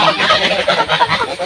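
A flock of village ducks gathered at a pond on a morning, giving a dense, continuous chorus of overlapping quacks and honks close by, with no talking.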